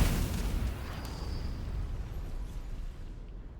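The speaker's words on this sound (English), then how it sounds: "Shoot fire at the flowers." A fire spell blasts at flowers in a Baldur's Gate-style fantasy role-playing game, a loud rumbling burst at the start that rolls and fades over a few seconds with no talk.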